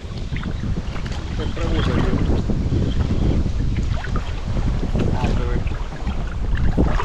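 Strong wind buffets a fishing boat on open water during a perch outing, a steady loud rushing roar with microphone gusts and no speech.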